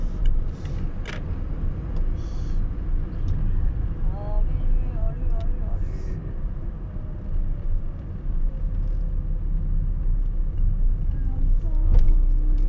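Street traffic with a bus and cars, heard from inside a vehicle as a steady low engine rumble with faint passing noises, while a person speaks over it.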